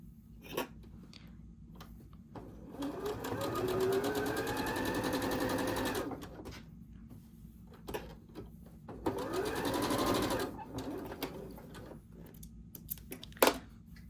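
A sewing machine runs in two bursts of steady whirring stitching while piecing a quilt block, separated by pauses with a few light clicks and handling sounds.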